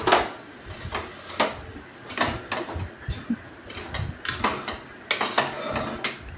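A spoon scrapes and clanks against a pot as spice masala, coriander powder and garam masala are stirred into goat tripe curry, giving irregular close metallic knocks and scrapes with no talking.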